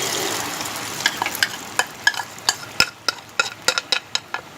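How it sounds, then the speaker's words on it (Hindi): An omelette egg mixture fries in hot oil in a pan for a bread omelette sandwich, giving a close sizzle dotted with sharp, irregular crackles and pops. "अब हम इसके अंदर अपना मिक्सर ऐड करेंगे।"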